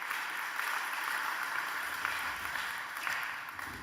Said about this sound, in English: a big round of applause for Joost and John to lead us into the topic.